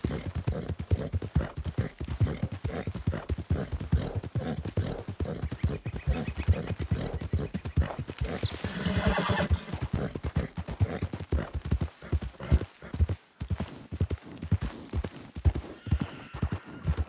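Horse hooves clop in a steady, rapid rhythm throughout, with a neigh rising midway, from a Red Dead roleplay video game; the hoofbeats stay close and prominent with no talk over them.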